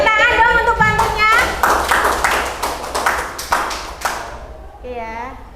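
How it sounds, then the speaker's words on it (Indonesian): Classroom clapping for a recited pantun, a quick burst of students' hands clapping between stretches of a teacher talking, close and fairly loud, fading as speech resumes. "Tepuk tangan dong untuk pantunnya"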